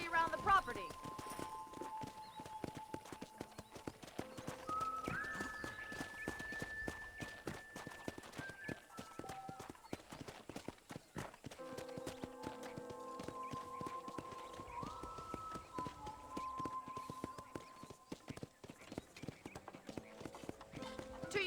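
Horse hooves clip-clop at a steady walking pace in the Red Dead Redemption video game, moderately loud under a voice talking over ambient music.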